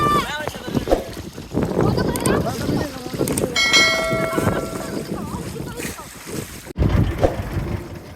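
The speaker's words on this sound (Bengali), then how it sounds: "আমাদের বোট চলে আসছে" Boat motoring across a river toward an island, its engine and water wash churning steadily while people talk loudly over it, with a brief bright ringing tone in the middle.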